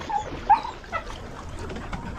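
A dog gives short high whimpers and a soft yip at close range, faint and brief against low background noise.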